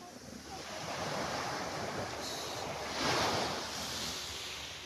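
Sea waves washing onto Papaya Beach in Batangas, a broad continuous roar of surf with a swell of louder breaking near the end, mixed with wind rushing across the microphone and no talk.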